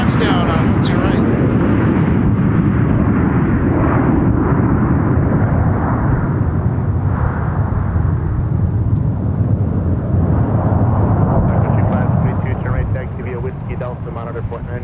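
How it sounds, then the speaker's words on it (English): A Sun Country Boeing 737 airliner touching down at Minneapolis–Saint Paul airport, heard as a loud sustained jet roar under a talking voice, slowly fading toward the end. "We go another Sun Country flight with a touchdown on to your right."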